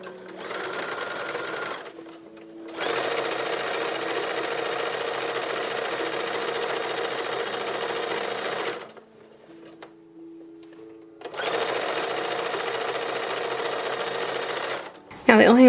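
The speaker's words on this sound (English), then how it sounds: "We're going to machine sew it at that point." A sewing machine stitches a gathered cuff onto a band for an 1860s gown accessory, running in loud, steady whirring bursts with a pause between runs and a brief quieter stretch.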